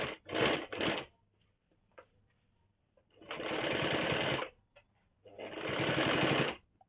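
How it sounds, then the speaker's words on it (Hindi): A sewing machine stitches piping cord with black thread around a curved kaftan nightie edge, running in three rapid bursts, two short and one longer, separated by quiet pauses. "अब मशीन पे पाइपिंग डोरी को इस प्रकार से अंदर डाल के पूरे गोलाई में ब्लैक धागा से सिलाई चला लेंगे"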